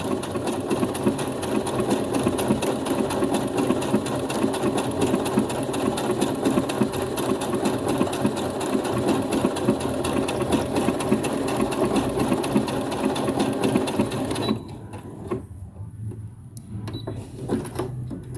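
Brother CS6000XL sewing machine stitching a seam, a fast, even mechanical chatter running close and loud for most of the stretch before it stops abruptly near the end, leaving quieter handling noise.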